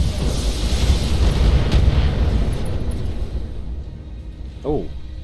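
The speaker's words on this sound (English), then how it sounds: "Firing all weapons." A mech fires all its weapons in the BattleTech video game, a loud rumbling barrage of blasts that fades out, ending with a short rising electronic tone.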